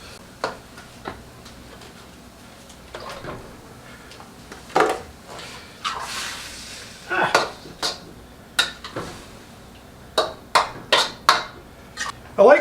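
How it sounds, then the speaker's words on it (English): Hard vegetables being stirred in a wok for veggie chili, giving irregular metallic scrapes and knocks, some sharp and close, scattered over a quiet background with faint talk. "I like to do this in the wok and stir it all up, all the hard vegetable stuff"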